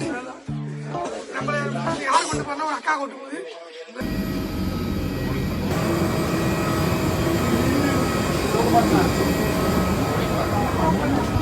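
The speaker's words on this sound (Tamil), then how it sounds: "இதான் நம்மளோட ஃபிளைட்டு." Airliner engines on a flight to Thailand from Chennai, a steady loud cabin roar after a few seconds of onboard sound, with a voice talking over it.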